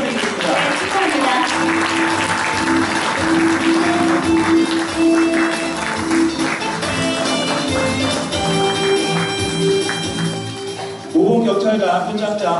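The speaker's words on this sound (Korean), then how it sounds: "여러분 축하해 박수 부탁드리겠습니다." An audience applauds at a police commendation ceremony during a Korea Police Daily 30th-anniversary event at the Kim Gu memorial hall. The applause is broad and steady, with speech and background music mixed in, and swells again near the end.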